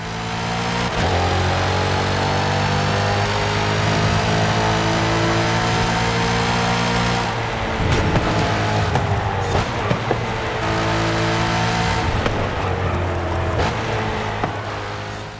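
The supercharged engine of a 2024 Chevrolet Corvette E-Ray in the video game Forza Horizon 5 drones loudly and steadily, its pitch shifting as it revs and changes gear.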